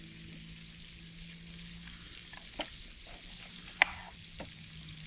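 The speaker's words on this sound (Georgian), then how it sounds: "ჩავდებ ღია ცეცხლზე და გავაგზელებ იქ სტეიკის შეწვას" Steak frying in a fresh pan over an open flame, a soft steady sizzle with a few sharp pops and crackles, fairly faint and heard alone.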